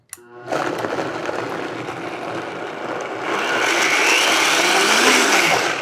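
A blender purees uncooked chestnuts, its motor starting abruptly and roaring loudly and steadily, the pitch shifting partway through as the mixture thickens.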